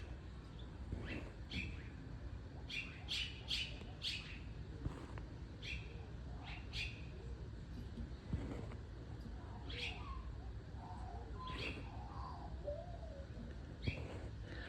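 Mynah birds chirp and call in scattered bursts over a steady windy rumble, with softer warbling notes from a magpie, moderately distant.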